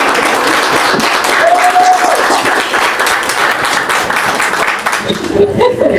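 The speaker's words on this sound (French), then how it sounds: "je vous demande de l'applaudir" Loud, continuous audience applause at a press cocktail event at a Haitian embassy honoring women, dense clapping filling the room and tapering slightly near the end.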